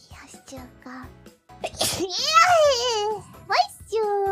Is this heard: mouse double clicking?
no